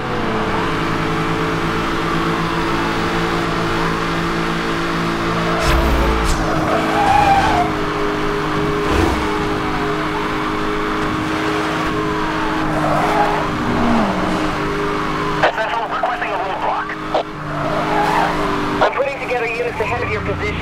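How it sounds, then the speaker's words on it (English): Cars in the video game Need for Speed Hot Pursuit race at speed, with engine drone and repeated tire squeals and skids, and a radio-style voice talking over the action. "vehicle speeding, trying to catch up to him."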